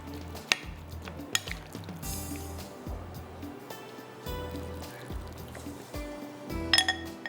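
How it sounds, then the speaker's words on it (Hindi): Chicken pieces frying in hot oil on a high flame, a soft sizzle broken by repeated clinks and clatters of a utensil against the pan, fairly faint and close with no talk. "अब चिकन जाएगा इसके अंदर फ्राई होने के लिए"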